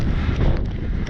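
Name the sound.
wind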